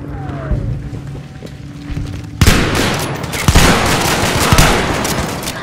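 Rapid automatic gunfire and explosive bursts from Battlefield V multiplayer conquest combat, loud and dense, starting quieter and then erupting into sustained fusillade with heavy impacts.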